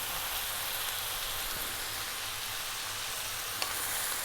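Cold cooked rice frying with garlic tofu in a hot pan: a dense, even sizzle with a faint crackle runs without a break, and a single soft tap comes near the end.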